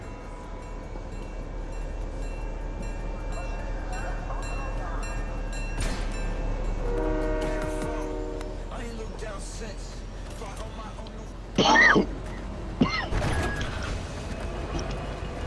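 A train rumbles past in the Fortnite video game with a steady mechanical roll, then a brief loud horn blast near the end, under game sounds and people talking.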